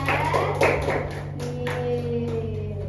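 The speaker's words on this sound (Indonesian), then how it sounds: "tepuk tangan untuk kelompok 3" A class of students applauds a group, a short burst of scattered hand claps with background voices and a steady low hum.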